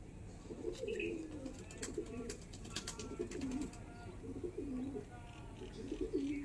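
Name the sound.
Kasuri Kalsira pigeons cooing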